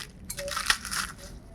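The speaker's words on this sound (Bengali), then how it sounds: "একটা ভেঙে দেখাচ্ছি।" A crisp fried nimki snack is snapped in half at close range, giving one short, crunchy crack.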